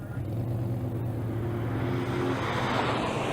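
Drag racing car on silver radial tires launching in the right lane at State Capitol Raceway, a loud sustained engine roar with a strong low drone that holds steady, then shifts and fades slightly.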